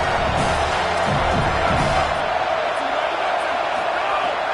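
Football stadium crowd at a college game roars steadily throughout, a dense continuous wall of cheering with no breaks, loud and distant-sounding, as the defense tries for a red-zone stop.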